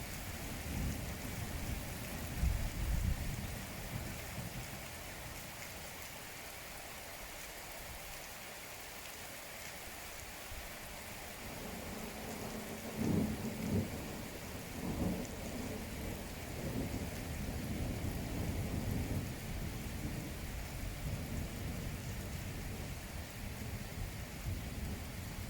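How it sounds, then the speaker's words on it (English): A thunderstorm heard from indoors at a window: steady rain hisses throughout while soft, distant rumbles of thunder roll in now and then. "let's just have a look outside my window during a thunderstorm"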